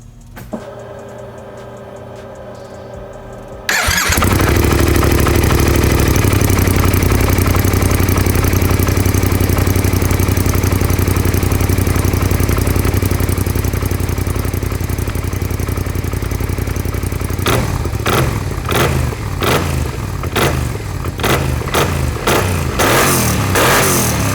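A KYMCO AK 550 scooter fitted with a MIVV Delta Race exhaust fires up after a short quiet lead-in, then runs loud and steady near the pipe, ending in a series of sharp revs.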